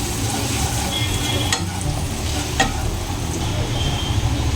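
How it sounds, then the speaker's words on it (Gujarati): Ginger, turmeric and spices temper in hot oil with a continuous close, loud sizzle and crackle, a few sharper pops breaking through the dense frying hiss, with no talk over it. "સરસ એવો વઘાર થઈ ગયો છે"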